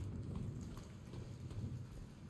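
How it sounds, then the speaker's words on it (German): Soft, constant patter of rain with a low rumbling background, faint and distant, without any voices. "Es regnet. Es regnet ernsthaft."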